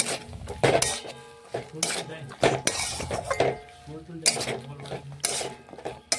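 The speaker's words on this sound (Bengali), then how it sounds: "আবারও আমি নাড়াচাড়া করে মিশিয়ে একটু রান্না করে নিচ্ছি" Moringa flowers and peas are stirred in a cooking pan, a metal utensil scraping and clinking against the pan in repeated bursts with short pauses between strokes, close and fairly loud.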